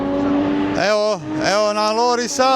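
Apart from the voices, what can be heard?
Yamaha R9 racing motorcycle passing, TT Isle of Man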